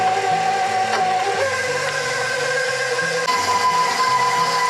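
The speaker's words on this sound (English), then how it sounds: "I'm just going to add my butter and my cream cheese into the mixer, and we're just going to cream that a little bit" A stand mixer whirs steadily as it creams butter and cream cheese, a continuous motor hum with a shifting pitch and no voices.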